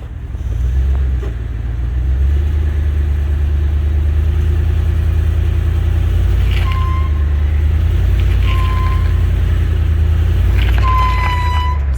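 Big Ford truck engine droning and revving while pulling on a frame in a backyard frame puller setup, a steady loud rumble with a few short high squeaks over it.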